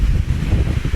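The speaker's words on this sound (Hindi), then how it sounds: "इतनी ज़्यादा तेज़ हवा है कि कह दें कि खड़े होना बहुत मुश्किल है।" Strong wind buffets the microphone at a high viewpoint above a river valley, a loud, low, rumbling roar that gusts unevenly for a brief second with no voice.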